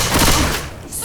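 Gunfire in the video game Left 4 Dead, a loud rapid burst of shots that dominates the first half-second, then drops off to a quieter tail with a brief sharp sound at the end.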